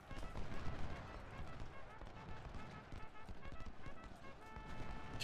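Faint, continuous crackle of massed rifle fire with occasional heavier artillery-like thumps during an American Civil War battle in the strategy game Ultimate General: Civil War, with a Union cavalry raid underway and a voice murmuring beneath.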